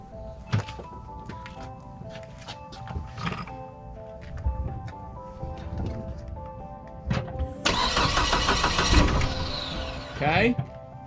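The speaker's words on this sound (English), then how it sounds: "Turn the car on again." A 200,000-mile Saab 9-5 with a fuel filter leak cranks and fires up nearby, the starter whirring into a steady idle after some clunks and faint voices in the background.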